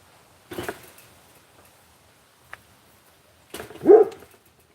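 A dog on a small farm barks a few times, a short burst near the start and a louder, closer yelp-like bark near the end, with quiet gaps between.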